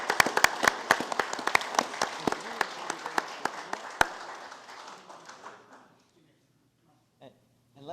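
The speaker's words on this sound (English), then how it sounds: "Big round of applause." Employees at a county Board of County Commissioners meeting give a round of applause, crisp individual claps close by at first, thinning and fading out after about six seconds, followed by near silence and a brief voice.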